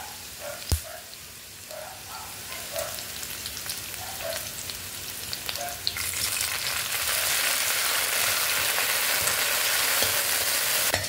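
Tofu sisig with onion frying and charring in a hot pan gives a close, crackling sizzle with light scrapes and pops, which swells into a louder, fuller hiss partway through.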